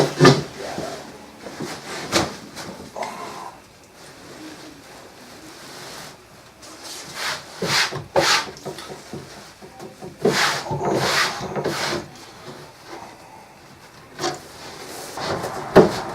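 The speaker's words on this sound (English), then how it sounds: "now what we're just going to do is smear it around so we get a nice even spread of the glue" Glue being smeared by hand across wooden round shield boards, with intermittent rubbing and scraping strokes and a few sharp knocks, close up and uneven in rhythm, no talk.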